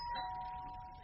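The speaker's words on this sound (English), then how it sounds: "That was the doorbell" A doorbell rings in a radio play, a steady sustained chime held for about a second over a quiet room-tone background, with no voices over it.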